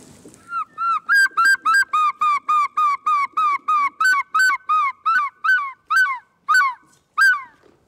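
Birds calling in a rapid, regular series of about nineteen loud, clear, ringing notes, each with a short falling inflection, close by with no talk.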